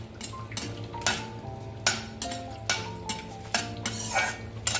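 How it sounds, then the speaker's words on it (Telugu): Whole garam masala frying in butter for a dhaba-style Afghani egg kurma: a steady low sizzle broken by repeated sharp clatters of a spoon stirring against the pan, close and fairly loud. "ఫ్రై కానివ్వాలండి."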